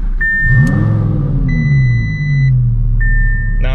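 An 800-horsepower twin-turbo Audi R8 V10 starts with a push-button on the steering wheel, then its engine settles into a deep, loud idle and rumbles steadily close by while a dashboard chime beeps intermittently.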